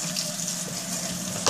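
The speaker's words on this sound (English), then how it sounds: "So I'm gonna wash my face really quick." Water runs steadily from a tap while someone rinses and washes their face at a sink, a continuous close hiss with a brief louder splash near the end.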